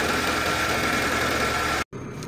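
A Mitsubishi Lancer GLXi gasoline engine revs steadily and loudly close by for nearly two seconds, then cuts off abruptly before a quieter idle resumes.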